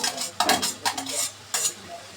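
Fried dried loitta fish (shutki) is stirred into cooked-down masala in a pan, giving irregular scraping and clinking strokes over a soft, continuous frying hiss.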